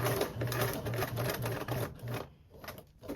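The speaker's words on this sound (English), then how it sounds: "I like to hand crank the first one over, and then I'm going to sew across" A sewing machine sews across a Belmont Luxe bag in a rapid, even burst of stitching that slows and stops, ending in a few quieter clicks.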